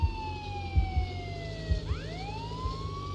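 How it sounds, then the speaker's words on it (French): A police car siren wails with a falling tone in the video game Contraband Police, loud and continuous, then sweeps back up after a brief dip, over low engine rumble and occasional thumps, with no talk. "on coupe la sirène parce que ça fait mal aux oreilles"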